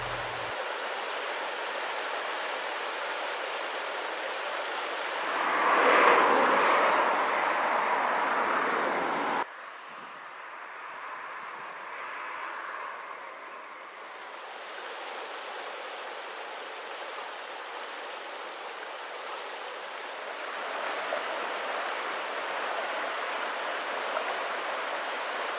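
Schwarza river in Austria flowing through a quiet valley upstream, a steady broadband rush of water that swells briefly louder before settling to an even, continuous murmur with no voices.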